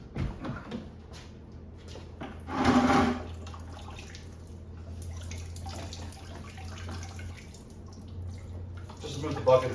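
Water gushes briefly from an opened filter housing of a spotless water system into a bucket, a short splashing burst, then a quieter trickle and drips.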